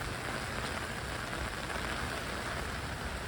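Rain falls outside in a steady, even hiss of drops pattering on the roof and ground, close and continuous, with no talk.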